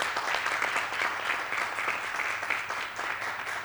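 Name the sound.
studio audience applauding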